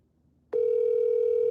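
A telephone ringback tone sounds during an outgoing call, a single steady tone that cuts in abruptly and sustains evenly, loud and close, with no voices.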